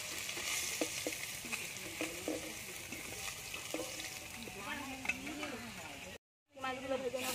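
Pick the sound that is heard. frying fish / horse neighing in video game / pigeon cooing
frying fish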